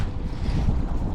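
Strong wind buffets the microphone on a boat on a lake during a fishing trip, a continuous low rumbling roar, loud and close with no speech.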